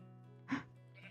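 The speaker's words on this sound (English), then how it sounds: "Baby sheep. Baby sheep." A baby sheep in Minecraft gives one short, clear bleat in the middle of a quiet moment, near and alone.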